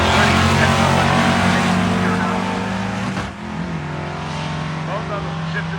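A 1966 Ford Galaxie and a VW Beetle drag racing side by side, engines roaring loud and close, then a gear change drops the pitch midway before both pull on steadily, with an announcer talking over them.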